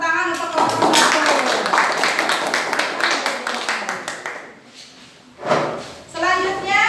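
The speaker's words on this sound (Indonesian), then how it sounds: "berikan tepuk tangan untuk kelompok 1" Classroom students clap for a presenting group, a burst of hand claps with children's voices over it, fading into quieter chatter before another short round of claps and talk.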